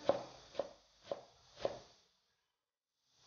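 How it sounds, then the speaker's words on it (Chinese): A knife chops half a carrot into small dice on a board, four crisp evenly spaced cuts close and quiet, then silence. "准备半根胡萝卜，先切成薄片，改刀切成长条， 改刀切成小丁"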